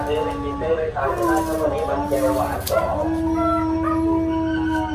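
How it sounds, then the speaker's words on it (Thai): A dog howls in long, wavering tones across the clip, with people talking over it throughout. "จูมจูมก็หอนนะเมื่อกี้เนี่ย"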